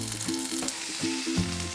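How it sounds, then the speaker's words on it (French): A chateaubriand beef fillet sizzles in hot oil in a pan, a steady close crackle and hiss with a few low clunks of the pan underneath. "Ça doit grésiller comme ça."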